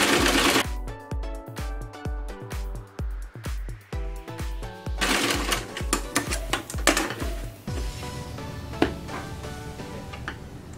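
A sewing machine stitches blouse cloth in fast, steady rhythmic bursts, pausing and restarting, loud and close with no talk.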